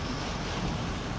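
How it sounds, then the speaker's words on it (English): Strong hurricane wind gusts from Hurricane Michael roar as a dense, loud, continuous broadband rush buffeting the microphone, with no voices over it. "We're seeing some wind gusts that are really pretty strong here."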